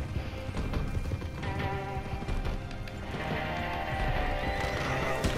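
A horse whinnies amid clattering hooves and rough, busy noise in a video game, the neighing and hoofbeats close and continuous over several seconds.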